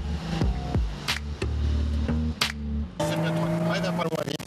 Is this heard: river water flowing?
no